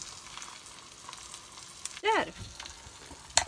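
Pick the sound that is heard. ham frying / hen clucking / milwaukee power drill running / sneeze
ham frying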